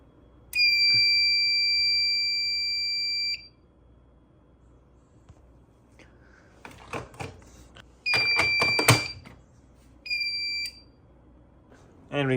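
A Notifier SFP-10UD fire alarm demo system sounds in alarm: a steady high electronic tone for a few seconds, then clicking and handling noise, followed by two shorter bursts of the same piercing tone.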